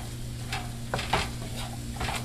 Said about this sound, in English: You hear the sizzle, it's cooking well.